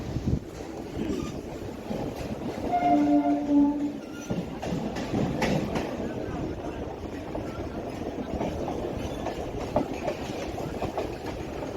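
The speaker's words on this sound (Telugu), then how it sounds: "ట్రైన్ స్టార్ట్ అయింది." A Chennai local suburban train pulls away from a station, a steady low rumble of wheels and carriage noise with a brief louder swell and some squealing tones early on, heard from inside the coach.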